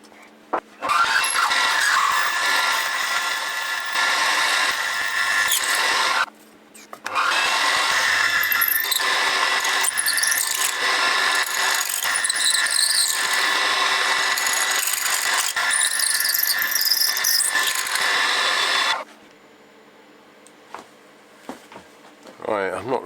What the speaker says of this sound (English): I've got to drill a hole now